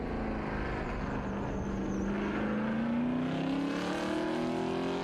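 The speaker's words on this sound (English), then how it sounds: "427 cubic inch big block V8 in an XR Falcon" A 427 cubic inch big block V8 Ford XR Falcon races at a grassroots historic sprint meeting, its deep engine note climbing steadily as it accelerates at a distance, a long continuous roar with no talk.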